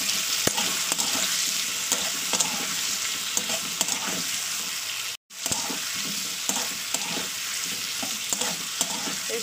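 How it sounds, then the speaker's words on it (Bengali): Ginger garlic paste fries in hot oil in a pan, a loud, steady sizzle broken by the scrape of stirring, with one brief dropout midway. "আদা রসুনটা দেওয়ার পর আবার 2 মিনিট কষিয়ে নেবো"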